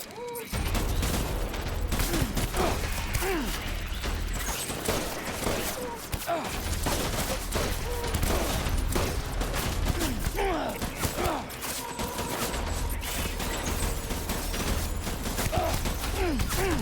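Gunfire rattles through a Death Stranding battle as repeated dense volleys and scattered shots, loud and fairly close, spread across the whole stretch with short lulls between bursts amid busy game noise.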